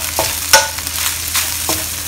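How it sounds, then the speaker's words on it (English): Shrimp and egg fried rice is stir-fried in a pan with a steady close sizzle, broken by a few scraping stirs and clacks, and no one speaks. "Keep stirring them around, make sure that they are coated in this beautiful egg that we are frying inside here."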